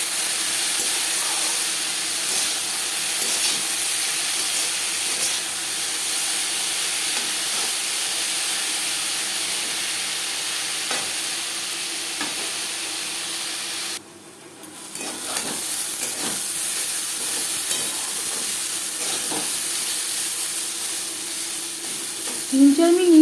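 Potatoes seasoned with salt and turmeric fry and get stirred in a pan over medium-low flame for aloo chorchori, a steady sizzle and hiss with occasional scraping stirs, briefly quieter midway before the frying noise resumes.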